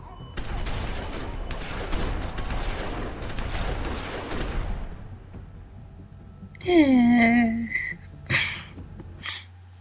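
Gunfire in The Walking Dead video game: a fast burst of shots rattles for several seconds, then fades out, followed by a character's anguished vocal cry and short voiced sounds.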